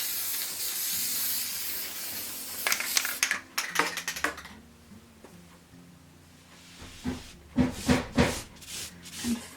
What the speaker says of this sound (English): I'm going to put some spray glue